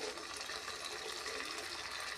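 Water pours into a pan of fish curry masala, a brief, steady gushing splash heard close and fairly quiet.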